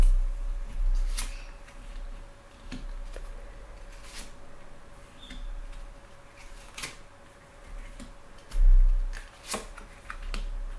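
Tarot cards being handled and drawn for a reading: soft, close paper shuffling and flicks with scattered light taps and one fuller rustle near the end, fairly quiet throughout.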